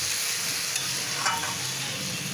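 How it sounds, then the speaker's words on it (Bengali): Rice and lentils stirred in a hot pan for bhoger khichuri, a steady sizzling frying hiss with a couple of brief scraping stirs, close and alone. "দিয়ে ভালো করে নাড়িয়ে চাড়িয়ে নিব।"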